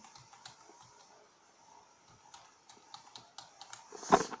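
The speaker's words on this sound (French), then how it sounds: "Moi, je suis en train d'appuyer sur toutes les touches du clavier." Keys being pressed across a wired gaming computer keyboard, a steady run of light plastic clicks and taps close by, ending in a louder clack near the finish.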